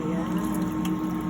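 Vinegar, two cups, pouring into a pot for homemade bagoong, a steady close gurgling stream of liquid running without a break.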